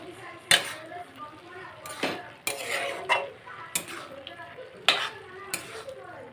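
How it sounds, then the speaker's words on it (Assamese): Cabbage, potato and coriander leaves with a little chopped tomato frying in a pan, heard as scattered utensil clinks and scrapes over a soft sizzle with quiet pauses between strokes. "এইপিনে মই ভাজি আছোঁ বন্ধাকবি, আলু, ধনিয়া পাত"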